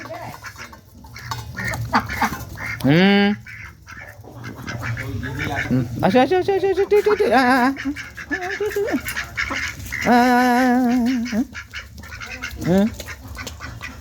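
Ducks quack loudly in several bursts, some drawn-out and nasal, close by, while a person calls to them in between; they are being fed a maize flour mix.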